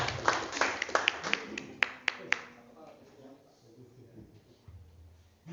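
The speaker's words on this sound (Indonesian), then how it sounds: "Aplaus untuk diri kita sendiri." A seminar audience applauding themselves at an Indonesian financial-freedom event, a burst of sharp, fairly close claps and hand taps that fades out after a couple of seconds, leaving quiet room tone and faint voices.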